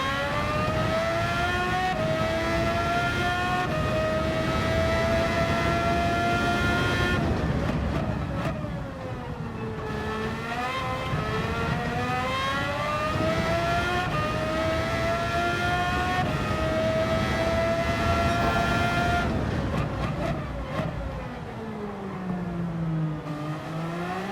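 A race car engine in a racing video game on the Canada track revs steadily and loudly, its pitch climbing through the gears, dropping and then rising again on smooth throttle.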